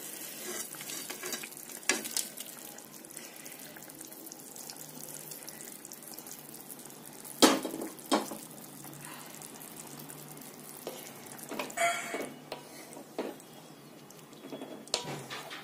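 Paneer pieces stirred into a simmering gravy for paneer tikka masala: quiet bubbling and low sizzle with scattered spoon clinks and scraping stirs, several sharper knocks standing out, no voices.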